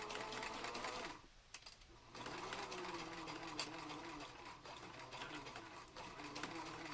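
A sewing machine back stitches along a seam on a fabric mask, a faint, steady motorized hum with a brief pause near the start before the stitching resumes.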